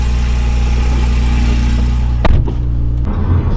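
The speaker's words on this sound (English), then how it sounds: "I love the sound of that naturally aspirated engine." A naturally aspirated car engine idles with a steady, loud low hum and even rumble, then a few sharp clicks and thumps break in near the end while the engine keeps running.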